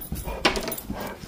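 A dog gives a short whimpering bark close by, followed by a softer yelp, with faint background noise.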